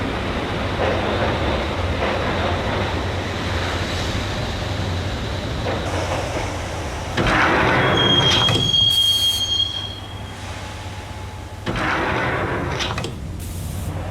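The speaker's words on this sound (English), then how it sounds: "the train doors had already shut behind me, and I was in for the ride. Next stop, Roscoe Street Station, and Alex." Subway train in the Max Payne game riding toward Roscoe Street Station: a continuous low rumble of wheels on rails, with bursts of high metallic squeal partway through and a brief shrill whistle-like tone, no voices.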